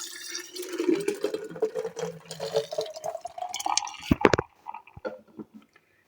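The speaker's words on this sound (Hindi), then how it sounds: "ये हम जग में शामिल करेंगे। अब जो हमने ये बादाम और दूध को ब्लेंड किया है ये शामिल करेंगे।" Blended almond and milk mixture poured into a jug over ice for an almond soda drink, a close, steady liquid pour with gurgling and a few sharp clinks near the end.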